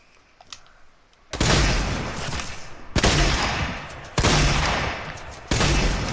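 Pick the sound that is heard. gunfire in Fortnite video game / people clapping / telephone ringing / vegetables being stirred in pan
gunfire in Fortnite video game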